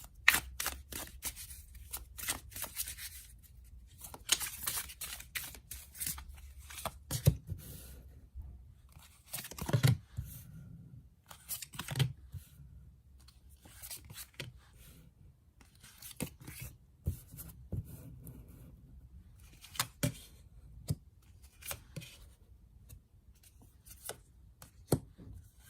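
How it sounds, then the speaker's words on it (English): Tarot cards being shuffled by hand, close and fairly quiet: quick riffling clicks and soft slaps come in irregular bursts with short pauses between them. "let's shuffle some cards"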